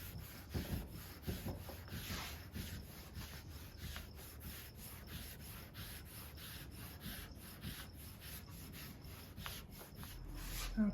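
Hand rubbing out the finish on a rustic walnut dresser, a soft, rhythmic scrubbing of cloth or pad on wood, repeated strokes at a steady pace, quiet and close.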